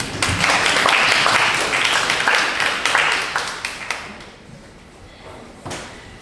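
Audience at an SDGs conference claps loudly and densely for about four seconds, then the applause fades quickly to a quiet room with a few last scattered claps.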